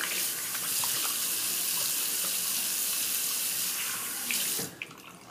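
Running water from a tap streams steadily as two Feather stainless steel razors are rinsed under it, a constant close rush that cuts off near the end.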